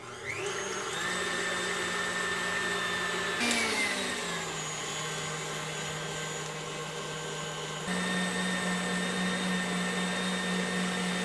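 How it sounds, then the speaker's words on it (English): An electric mixer whips four egg whites in a mixing bowl, a steady loud motor whir with a pitch that shifts as the speed changes, running alone throughout. "I have 4 egg whites in this mixer bowl"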